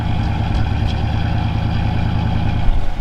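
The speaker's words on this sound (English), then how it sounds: "just listen to that exhaust note." A 1963 Cadillac Coupe DeVille's exhaust at idle rumbles deep, low and continuous, with a faint uneven throb and no voices.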